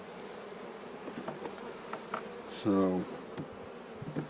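Honeybees buzzing around an open hive during a queen search, a steady near hum with a louder passing bee close to the microphone, and someone speaking briefly.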